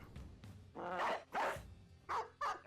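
A war dog in the video game Battle Brothers barks several times in quick, loud bursts, close and clear, with short gaps between the barks.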